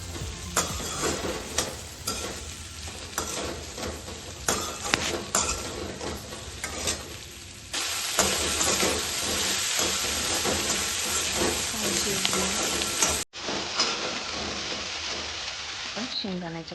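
Okra and potato stir-fry with crushed peanuts mixed in a pan, giving a hissing sizzle with repeated scraping strokes of a spoon, partly under a voice, loudening midway before a brief cut.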